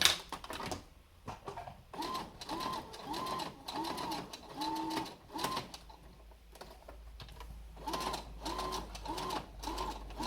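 Sewing machine stitching a layered cloth face mask, running in short bursts separated by brief pauses, quiet and close.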